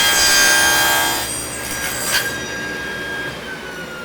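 A handsaw cuts wood on a finger joint jig, with a loud, bright rasp over the first second or so that fades into a quieter, steadier tail and a brief scrape near the middle.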